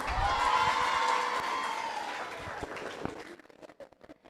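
An audience at a high school graduation ceremony for the class of 2023 applauds in a steady wash of clapping that thins out and fades into a few scattered claps at the end.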